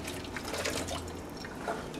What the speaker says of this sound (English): go to the sink, pour it all out except a half a cup